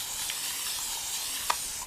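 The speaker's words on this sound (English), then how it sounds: "I'm just going to spray the board." A handheld water mister sprays a board for watercolor paper, a soft steady hiss of fine spray running the whole time with one brief stronger puff near the end, close by and alone.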